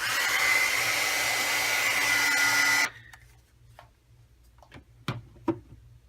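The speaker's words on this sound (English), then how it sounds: "So now I'm going to go ahead and just heat set this." A heat tool blows steadily as it heat-sets gold embossing powder on a card, a loud even whirring hiss that cuts off abruptly, followed by quiet clicks and small handling knocks.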